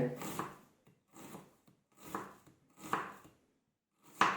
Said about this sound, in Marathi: भेळीसाठी कांदा चिरून घेणार आहोत